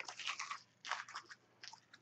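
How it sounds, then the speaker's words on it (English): A person chews and bites a piece of paper with a written quote on it, giving close, loud crunching and tearing bursts in uneven clusters, alone without talk. "I gotta really chew it up."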